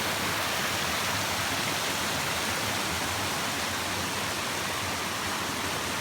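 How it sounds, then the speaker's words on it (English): Curry Creek rushes and splashes along the Appalachian Trail in a steady, dense wash of flowing water. It is loud and continuous throughout, with no voices. "Okay, this is Curry Creek."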